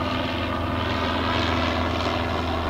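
A helicopter hovers low over an outdoor sports court, its loud, steady rotor and engine roar filling the whole stretch without a break.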